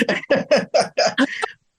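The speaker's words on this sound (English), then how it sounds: "I can see you like revving up your throat, just like getting all the phlegm out." A person repeatedly clears their throat, forcing out phlegm in about six loud, rough bursts close by, the last ones shorter and breaking into a rasp before silence.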